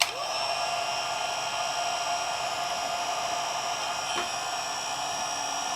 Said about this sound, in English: Heat gun test, low.